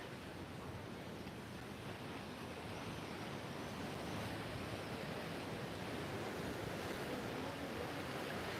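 Choppy sea waves at Cala Millor beach on Majorca wash in a steady, broad rushing surf that swells slightly louder toward the end, with some wind noise and no talk.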